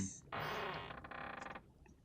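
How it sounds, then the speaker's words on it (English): A heavy door in Zelda: The Wind Waker HD grinds shut with a loud creaking scrape, then a rattling mechanical run as it seals, close and alone. "Oh, snap. The door's closed."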